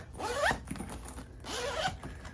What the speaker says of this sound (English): You can see the zip closure.